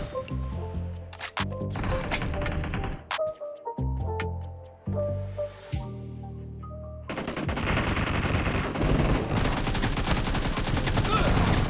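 Video game gunfire from BGMI: repeated bursts of automatic weapon fire and single shots, loud and close, with rapid rattling volleys that build into dense continuous shooting toward the end.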